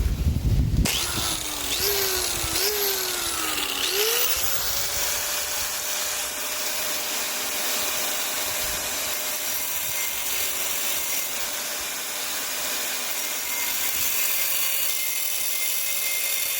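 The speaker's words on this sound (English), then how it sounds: "we're just going to notch it lightly with the cutting disc" Cutting disc lightly notching a metal tube on a shortened Ford Dodge Dart, the angle grinder revving up with a few pitch swoops and then settling into a steady high whine that runs throughout.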